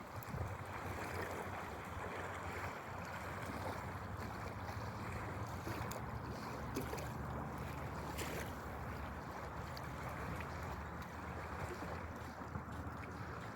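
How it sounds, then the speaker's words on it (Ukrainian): Waves lap continuously at the Dnieper river shore at sunset, a soft broadband wash mixed with wind noise and no voices. "Хвилі плещуть."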